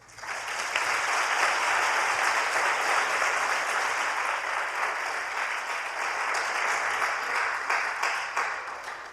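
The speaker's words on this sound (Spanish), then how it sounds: "les pido que me acompañen en un aplauso de bienvenida" Sustained welcoming applause fills a Spanish book presentation hall, a broad, even wash of many hands clapping that swells at the start and holds steady before easing off at the end.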